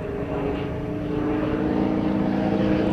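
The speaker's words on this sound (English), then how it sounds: "the Yak-50, the Yakovlev Yak-50. Originally a Russian engine in this Yakovlev," A Yakovlev Yak-50 propeller plane with its original Russian engine flies at the 2009 Dover AFB airshow, giving a loud, continuous engine drone that holds steady and swells slightly toward the end.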